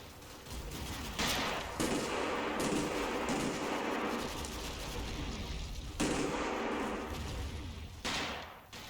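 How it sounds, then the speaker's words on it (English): Gunfire crackles in a steady exchange from a World War II battle at Colle Sant'Angelo near Monte Cassino in the video game Combat Mission, with sharp bursts and rattling volleys sounding continuously over a rumbling background. "They trade fire with the remnants of B Company."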